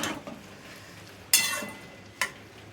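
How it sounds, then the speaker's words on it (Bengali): A utensil scrapes and clinks against a pot while water lily stems with turmeric are stirred, with two sharp, brief metallic scrapes standing out over a quiet background. "একটু নেড়ে চেড়ে দেবো"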